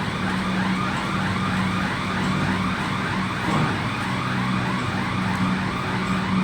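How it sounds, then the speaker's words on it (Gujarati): Siren on a mini oil mill with a double filter, wailing continuously and loudly as its container fills, a rising and falling electronic tone over machine hum. "ડબ્બો ભરાઈ ગયો છે એટલે સાયરન વાગે છે।"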